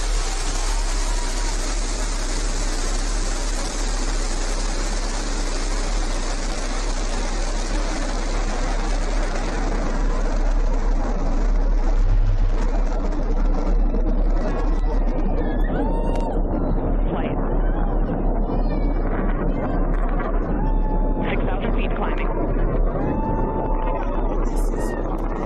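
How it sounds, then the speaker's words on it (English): New Shepard rocket engines roar at liftoff on the NS-31 mission, a loud, continuous broadband rumble that holds steady for the whole stretch, with faint background tones and distant voices breaking through later. "ignition. Liftoff. New Shepard has cleared the tower."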